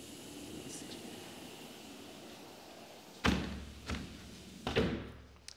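Door in a St George rental home shut against the heat, with quiet room tone followed by a sharp close thump and two softer knocks of it settling.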